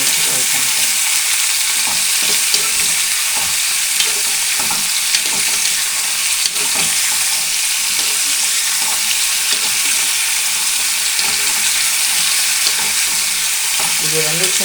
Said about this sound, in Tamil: கத்திரிக்காயும் நம்ம அந்த ஆயிலே நல்லா ஃப்ரை பண்ணிக்கணும்.